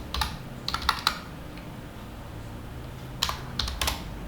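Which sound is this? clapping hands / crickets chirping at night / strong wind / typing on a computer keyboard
typing on a computer keyboard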